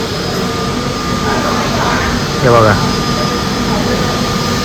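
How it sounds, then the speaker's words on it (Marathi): A Star Air jet airplane approaches at an airport with its engine making a steady, loud, broad roar throughout, and a person briefly speaks over it. "जवळजवळ आल्यावरती तर अजून भव्य वाटायला असं वाटतं आपल्याकडेच येते ते विमान"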